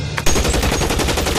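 Rapid gunfire bursts from a shootout in the video game L.A. Noire, a loud continuous volley of machine-gun-like shots starting abruptly after a brief lull.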